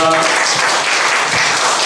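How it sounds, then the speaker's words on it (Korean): An audience at a church youth gathering breaks into loud, continuous applause, a dense wash of clapping that stays level throughout the short moment. "큰 박수로 드리겠습니다."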